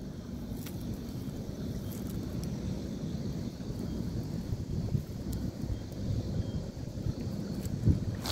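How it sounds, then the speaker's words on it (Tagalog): Strong wind blows at sea near a small fishing boat, a steady low rushing buffet against the microphone with a few faint knocks. "Ang lakas ng hangin."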